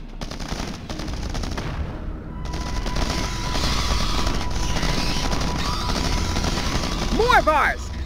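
Bursts of automatic gunfire rattle in Starship Troopers: Terran Command amid an urban street fight, dense shots early, then a steady battle din under voice chatter.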